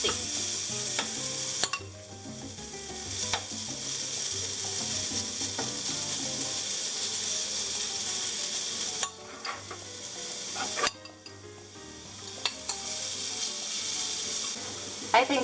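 Sweet potato hash on a waffle grill gives a steady loud sizzle and crackle that runs throughout, broken by a few short clunks and pauses as the grill is handled.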